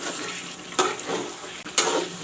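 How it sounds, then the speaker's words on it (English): Chicken pieces and potatoes frying in a pan of marinated masala with melted onions for a home chicken curry, giving a steady hissing sizzle with a few louder crackling bursts. "you can see the chicken is frying along with the masala,"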